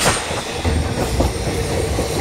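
A passenger train rolls into Ranaghat station with a steady rumble and faint clickety-clack of wheels over the rails, loud and close throughout the short stretch, no voices.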